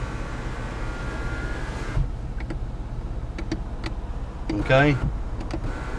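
An electric moon roof and power windows on a 2017 Ford F-150 run with a steady motor whir inside the cab, stopping with a clunk before soft clicks and a short whine, while someone talks briefly.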